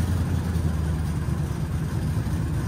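A Leyland Martian tank recovery truck's V8 engine idles steadily at close range, a deep continuous rumble with a slight uneven throb and no voices.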